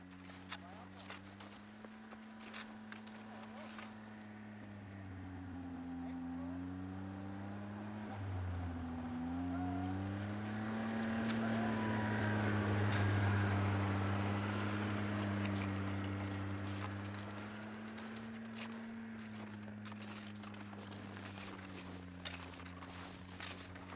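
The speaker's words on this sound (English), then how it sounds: "You can hear the snowmobile waggling away into the distance as I climb up this hill" Outdoors in winter, a snowmobile's engine drones in the distance, its pitch wavering and slowly shifting while it drives away, heard under footsteps and the rustle of someone climbing a hill.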